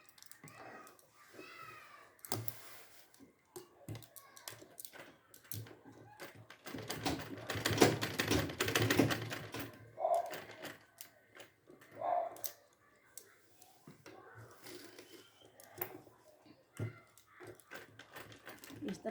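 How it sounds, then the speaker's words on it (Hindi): A sewing machine runs in bursts, stitching lines along old clothes being made into a dog bed, its rapid mechanical ticking rising loudest in the middle stretch, with someone speaking over it at times. "सिलाई करते हुए मैं सारे लाइन पर कर दूँगी सिलाई।"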